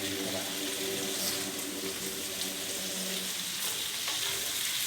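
Tomatoes, green chilli and coriander sizzle steadily in a pan for a chicken curry, a continuous close frying hiss with faint clinks and no voices.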